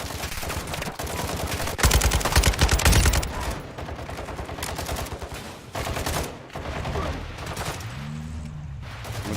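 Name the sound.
gunfire in video game Warzone 2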